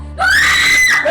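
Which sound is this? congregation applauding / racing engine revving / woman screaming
woman screaming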